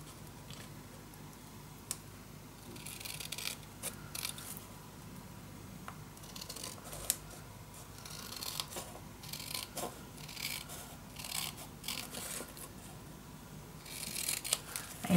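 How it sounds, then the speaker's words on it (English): Scissors cut paper for a paper bag mini album in short, quiet snips spread across a calm tabletop scene, faint and close, with soft handling sounds between cuts. "Now you can cut off again this piece."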